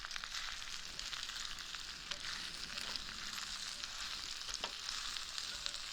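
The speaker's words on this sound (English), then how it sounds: "I love the sound when they're sizzling." Tofu and wood ear mushrooms sizzle and fry in a wok, a steady crackling hiss with scattered sharp pops, quiet and constant with no speech over it.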